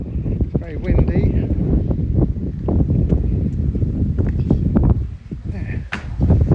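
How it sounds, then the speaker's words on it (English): Strong wind buffets the microphone in continuous rumbling gusts at a Hunstanton camping and holiday resort, with a voice speaking faintly underneath. "It's very windy."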